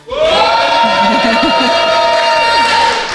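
A live audience at a podcast recording at the PodRennes festival cheers and shouts loudly and continuously, with a sustained musical tone running underneath the crowd noise.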